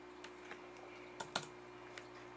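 Typing on a computer keyboard: a handful of sparse, light key clicks at close range, irregularly spaced, over a constant low electrical hum.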